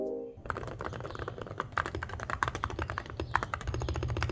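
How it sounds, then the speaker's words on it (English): Close, brisk typing on a keyboard with ceramic keycaps gives a dense stream of sharp, bright clicks that grows busier midway, with no voices. "And here it is with ceramic keycaps."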